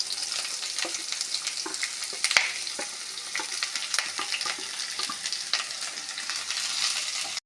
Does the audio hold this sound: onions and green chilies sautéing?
yes